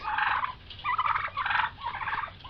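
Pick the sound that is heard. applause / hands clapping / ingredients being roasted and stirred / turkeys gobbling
turkeys gobbling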